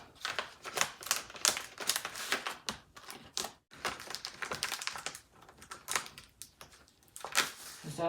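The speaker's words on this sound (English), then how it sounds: "So smooth the tape onto the paper. See, I'm smoothing it onto the paper like this." Tape smoothed onto paper by hand, a busy close-up run of crinkling, scraping rubs and tapping strokes that keep going with only brief pauses.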